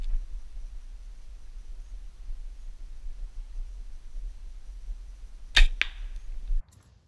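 A quiet stretch of faint background hiss, then a single arrow strikes a target with a sharp, close thwack, followed by a brief rattle.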